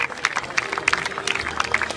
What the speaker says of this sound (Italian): Applauso per le campionesse d'Italia 2016